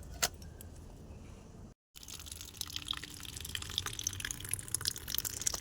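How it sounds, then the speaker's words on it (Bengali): Brass worship utensils are scrubbed and rinsed under water, with trickling and dripping, metallic clinks and jangles of the vessels knocking together close by, briefly cut out once, with no talking. "এগুলো তো মাজা নেই এগুলো আমি মেজে নিই মেজে রেখে যাবো আমি"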